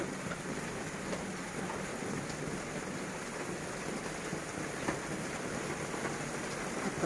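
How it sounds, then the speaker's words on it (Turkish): Steady rain falls in a continuous, even hiss, with a constant broadband patter and no voices. "Tam zamanında yağmur yağdı."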